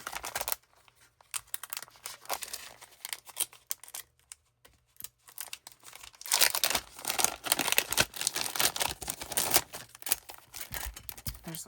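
Plastic packaging crinkling and rustling as a metal Heart Rosette cutting die is unpacked, with quiet scattered crackles at first, then denser, louder handling noise in the second half.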